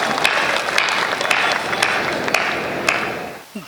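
A live audience applauds at an Indian Hindi poetry recital, a dense, steady wash of clapping with a few sharper claps standing out, sustained and fairly loud until it drops away near the end.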